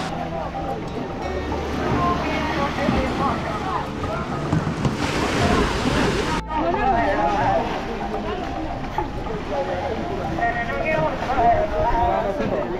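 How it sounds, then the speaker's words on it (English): A water bus crosses open water off the Kenyan coast, with continuous sloshing and splashing against the hull under steady wind rumble and engine drone, loudest in a brief surge midway. "I'm finally in the water bus"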